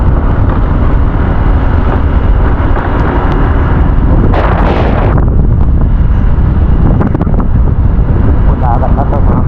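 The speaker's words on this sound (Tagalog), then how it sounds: "Grabe ang hangin" Strong wind by the sea during Typhoon Kristine roars and buffets the microphone continuously, a loud rushing gust peaking midway, with low surf-like rumble underneath.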